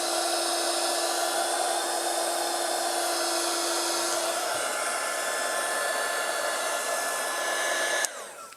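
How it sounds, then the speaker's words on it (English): A heat gun blows a loud, steady, close whir while shrinking heat-shrink tubing on wire ends, running continuously before cutting off abruptly near the end. "And then just run the heat gun against them,"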